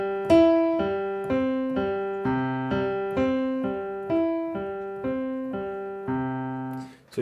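A piano repeats a short broken-chord pattern about ten times at a steady, even rhythm, each note ringing clearly and decaying before the next, played alone and close.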